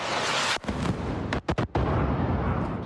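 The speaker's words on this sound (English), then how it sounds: "You can hear the odd missile in the background." Dull booms from missile strikes near Dubai during Israeli-US air strikes on Iran, heavy and rumbling with a couple of brief gaps, filling the background without speech.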